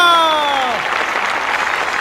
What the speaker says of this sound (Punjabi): ਤਾੜੀਆਂ।